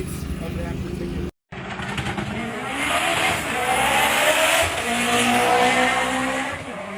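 A roll-racing car on a qualifying pass roars hard after a brief dropout, its engine note climbing and surging loudly as it accelerates, with a wide, rushing noise layered over the drone.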